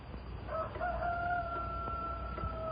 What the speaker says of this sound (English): Listen to that rooster crow.